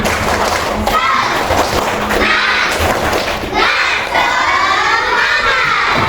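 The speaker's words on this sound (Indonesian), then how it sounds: "Oke, sebelum kita presentasi, tepuk semangat dulu, tepuk semangat." A fourth-grade class of children in a school classroom performs a rhythmic clapping chant, loud, close shouting voices mixed with sharp claps and thumps in a busy burst that fills the room.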